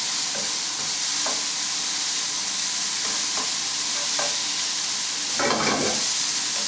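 Lardons fry in a pan without any added fat, giving a steady close sizzle with occasional scraping stirs of a utensil against the pan.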